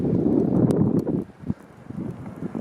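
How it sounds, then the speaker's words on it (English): Gusty wind buffeting the microphone in a park on a snowy day in Canada, loud rumbling bursts that ease and return, with faint rustling and no talking. "But the wind's getting up, unfortunately."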